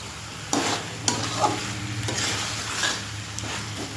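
Leafy greens with stalks sautéed in a pan, a steady close sizzle broken by several sharp scraping stirs of a utensil, with no talking.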